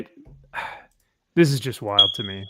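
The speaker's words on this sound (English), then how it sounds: "Oh, someone's smoke alarm going off." A smoke alarm gives a single thin, high-pitched chirp that holds briefly near the end, faint and partly buried under a person talking close by.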